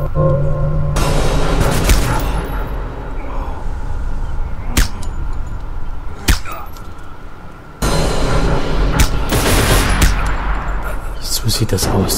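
Gunfire in the World War II stealth game Velvet Assassin, several sharp shots ringing out amid loud, busy game noise with a steady rumble underneath, one standing out clearly near the middle.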